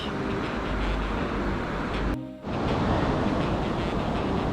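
The flooded Ain river rushes past at Pont d'Ain at around 1000 cubic metres per second, a loud, steady broadband roar filling the whole clip, with only a brief dip in the middle.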